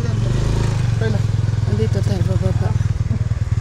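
A scooter engine putters close by on a muddy hillside road through cornfields, its low steady chugging running throughout while a person talks over it.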